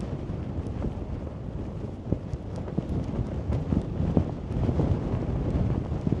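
Strong wind buffets a microphone outdoors as someone walks along a road, making a constant loud rumble with gusty swells and occasional small knocks and rustles, and no voices.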